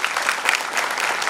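Dense, steady applause from a large audience at a speakers' event in Mumbai, welcoming an honoured guest; continuous crowd clapping with no breaks over the short stretch.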